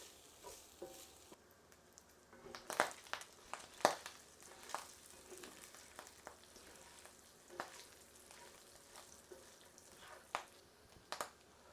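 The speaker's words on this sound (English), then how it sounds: "we'll keep frying these on medium to low heat, just so that the fat can render out and then also that the meat will become crispy" Pork frying in a pan on medium to low heat as the fat renders, a soft, close sizzle punctuated by frequent sharp crackles and spits, with occasional light stirring, no speech.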